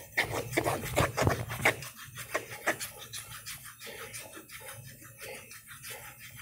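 A straight razor is honed Japanese-style on a Japanese whetstone: quick, rhythmic scraping strokes, bold and close at first, then lighter, softer passes, with no talking.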